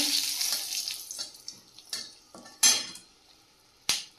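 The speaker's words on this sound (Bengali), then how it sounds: "কড়াই তেল দিয়েছি দিয়ে দেবো শুকনো লঙ্কা" Dried red chillies dropped into hot oil in a wok, a fading hiss of frying punctuated by several sharp metallic clanks of a spoon against the pan, close by and without speech.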